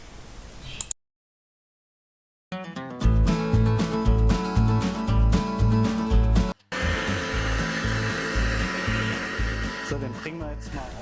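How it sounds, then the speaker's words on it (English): Heat gun warming the lower housing of a Bosch D-Jetronic additional air slide from a Mercedes-Benz, blowing as a steady, loud whirring hiss that starts after a brief silence and runs continuously with a short break. "Take a heat gun and heat up the lower housing, which is sitting on that base shaped like a hexagon."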